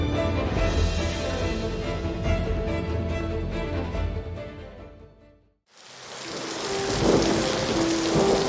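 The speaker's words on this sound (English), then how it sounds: "The storm raged." A thunderstorm with heavy rain pours steadily and loud, then a deep thunder rumble breaks in after a brief hush, followed by more dense, hissing rainfall.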